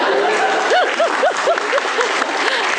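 Audience applause at a KVN comedy contest in Tavda, a steady dense clapping throughout with a voice speaking over it.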